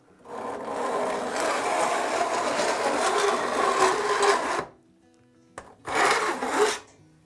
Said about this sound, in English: So I can set the file in there and joint all these teeth.